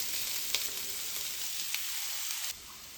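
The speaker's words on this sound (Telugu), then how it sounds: "దాంట్లో ఆయిల్ వేడయ్యాక ఆనియన్స్ వేసుకోవాలి." Onions hit two spoons of hot oil in a pan and fry with a bright, continuous close sizzle, a couple of sharp crackles popping through, then the hiss drops quieter near the end.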